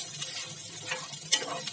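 Chopped onions sizzle gently in a pan and get stirred now and then while cooking for jahangiri stir-fried boneless chicken, a soft steady hiss broken by a faint scrape or clink, close by and without talk.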